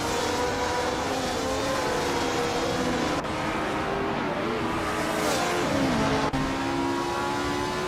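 A 1965 F1 race car in a 1960s Formula 1 racing video game, driven mid-pack around the Feldbergring, its engine droning loud and steady with shifting pitch throughout, two brief gear-change dips.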